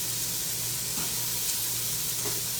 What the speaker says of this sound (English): And while those are sauteing